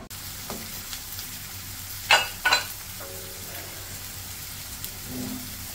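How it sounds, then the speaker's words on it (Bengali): Flat beans and potatoes fry in spiced masala with a low steady sizzle, while a few sharp stirring scrapes and clinks of a spoon against the pan stand out in the middle. "এখন দিয়ে দেবো হচ্ছে সিম আলু দিয়ে মশলার ভিতরে কষাবো।"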